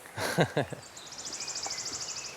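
A brief burst of nearby voices fades into a high, rapid trilling bird song, an accelerating run of thin repeated notes at moderate distance.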